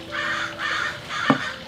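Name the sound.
crows cawing while fighting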